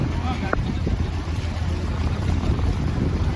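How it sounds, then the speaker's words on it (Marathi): A ferry crosses open water near the Global Vipassana Pagoda in Mumbai, giving a steady engine rumble with wind buffeting the microphone and washing water, loud and continuous throughout. "हे तुम्हाला मागे जे दिसते ती फेरी आहे"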